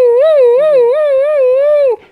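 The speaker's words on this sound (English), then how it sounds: "that cry is similar in all mammalian species, and it sounds like this." A single long, wavering high-pitched separation distress cry of a young mammal, loud and close, rising and falling in pitch for about two seconds before cutting off.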